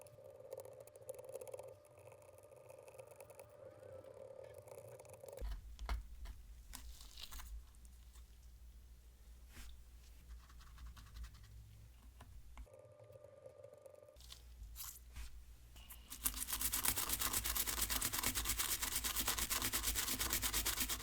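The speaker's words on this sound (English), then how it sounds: "very carefully scrape it away with this spudger" A spudger scrapes a sticker off a smoke- and soda-damaged Wii console after it is soaked in isopropyl alcohol, giving steady rubbing and scratching strokes that grow louder and harsher near the end, with no talking.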